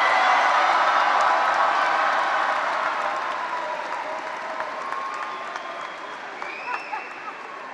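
At the Centaurus High School class of 2023 graduation ceremony, a large crowd gives loud, sustained applause with some cheers and whoops, slowly fading over several seconds.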